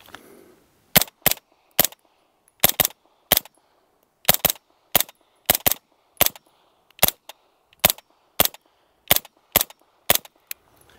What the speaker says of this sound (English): let's go ahead and start shooting some steels with this